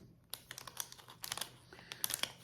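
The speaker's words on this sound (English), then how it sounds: "I'm going to take my scissors and open this package up" Quiet, irregular clicks and crinkly snips close by, like blades cutting through stiff plastic packaging, in short uneven bursts.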